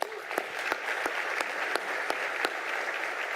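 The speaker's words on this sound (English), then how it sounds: "Let's give him a big round of applause." Audience applause for Governor Kevin Stitt at a panel event, steady clapping from a crowd with sharp individual claps standing out, continuous throughout.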